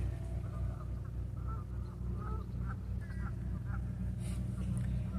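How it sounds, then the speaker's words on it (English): Geese honk repeatedly in the distance over a steady low background rumble, their calls scattered and fairly faint. "You can hear the geese behind me."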